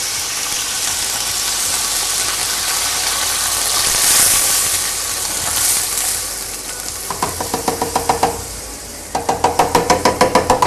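A tomato and flour sauce sizzles loudly in a pan as cream is added, with a steady hiss and frying crackle followed by a series of rhythmic stirring or whisking pulses.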